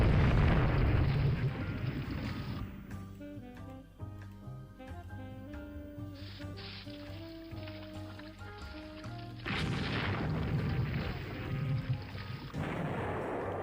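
Naval gunfire and shell explosions in Rule the Waves 3 boom in heavy bursts at the start and again near the end, with a quieter musical stretch between them.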